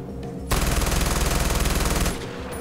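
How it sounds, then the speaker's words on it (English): An LMG in Far Cry 4 fires one sustained burst of about a second and a half, a loud, rapid, evenly pulsing rattle that stops abruptly. "Man, it's insane, this LMG,"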